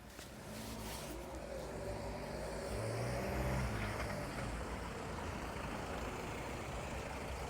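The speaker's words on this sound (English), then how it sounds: "Pretty busy with traffic here" Busy street traffic in Tavira, a town in the Algarve, with cars and trucks rumbling past close by in a steady, continuous flow, engine noise swelling in the middle and a brief air-brake hiss.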